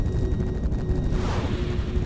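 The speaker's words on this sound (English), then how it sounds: "my rockets keep missing" Dense rapid gunfire and rocket blasts in the missile-defense game Directive: Intercept, a constant loud barrage of overlapping shots with a brighter burst of explosions toward the end.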